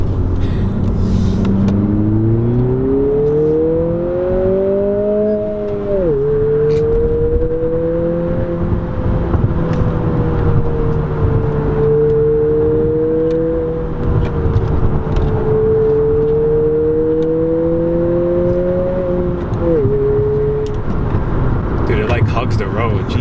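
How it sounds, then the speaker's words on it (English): A 2020 Honda Civic Si coupe engine climbs in pitch through each gear, with quick drops and blips between shifts, droning steadily inside the cabin. "Rev matching through the gears is just really fun."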